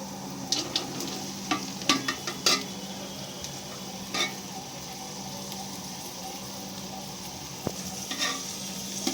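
Chopped vegetables for veg fried rice fry and are stirred in a pan, a soft steady sizzle broken by intermittent scraping clinks of a spatula against metal, no voices.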